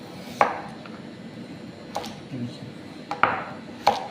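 Carrots being chopped with a knife on a cutting board for boiled vegetables, four sharp, separate knocks spaced about a second apart, close and clear.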